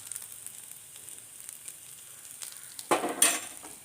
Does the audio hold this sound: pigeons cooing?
no